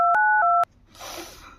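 Several telephone keypad tones beep in quick succession, loud and clean, followed by a faint rustling after the dialing stops.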